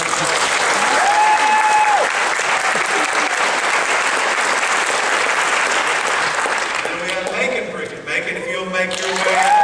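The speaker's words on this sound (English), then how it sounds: "Let's give another round of applause." An audience at a graduation ceremony gives a graduating student a sustained round of applause, dense clapping from a large crowd that fills the room. A voice over a loudspeaker speaks across the end.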